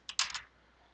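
A few quick keystrokes on a computer keyboard, close and fairly quiet: a short burst of clicks, then silence.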